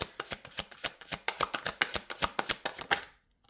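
Rapid, rhythmic riffling of tarot cards, a quick series of crisp flutters that stops abruptly into silence.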